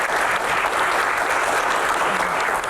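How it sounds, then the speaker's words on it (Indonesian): An audience claps steadily for a doctor at a talk-show panel event, the applause dense and sustained at an even level throughout. "tepuk tangan untuk dokter"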